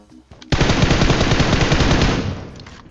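Sustained automatic gunfire in a video game, a loud close burst of rapid rattling shots lasting about two seconds after a brief quieter lead-in, then cutting off.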